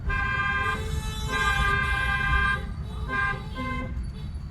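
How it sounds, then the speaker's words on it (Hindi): A car horn honks in busy road traffic, sounding in repeated bursts over steady engine noise, with a siren-like tone mixed in. "अब ऐसी कंडीशन में आपको हॉर्न देना चाहिए।"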